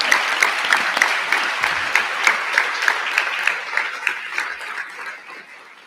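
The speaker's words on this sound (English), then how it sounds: "Give yourselves an enormous round of applause" Audience applause at the Jessup international moot court world championship, a full, sustained round of clapping from a large crowd, steady and fairly loud before slowly tapering off.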